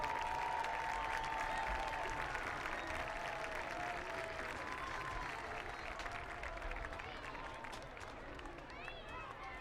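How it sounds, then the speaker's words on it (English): Steady crowd applause at a high school football game, clapping continuously from a distance with a few scattered voices, slowly fading toward the end. "Please join us in a round of applause"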